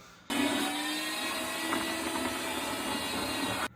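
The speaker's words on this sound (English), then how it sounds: "Sucking out the rest of the water from the bowl." Wet vacuum sucking the remaining water out of a toilet bowl, a loud steady motor whine with airy hiss that starts abruptly, runs evenly for a few seconds and cuts off.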